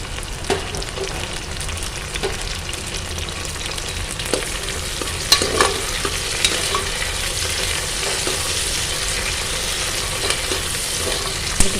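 Large onions and curry leaves sauté in hot oil, a close, steady sizzle and crackle with frequent scraping stirs and small clicks of the utensil throughout.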